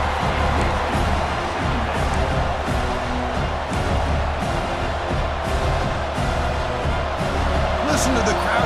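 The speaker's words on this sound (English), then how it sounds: "Listen to the crowd energy here in the early going." A large stadium crowd roars continuously in EA Sports College Football 26 during a Miami game against Penn State, a dense steady wash of cheering with a commentator talking over it.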